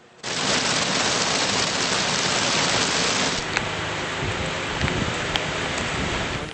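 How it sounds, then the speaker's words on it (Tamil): Sudden summer rain pours down at the hill station of Ooty, Tamil Nadu, a dense, steady hiss that starts abruptly and carries on without a break, with a few faint ticks of drops on surfaces. "கோடை வாசஸ்தலமான உதகையிலும் திடீரென மழை பெய்தது."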